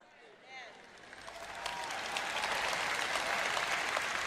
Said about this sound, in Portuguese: Agora suas palmas estão ficando um pouco fraquinhas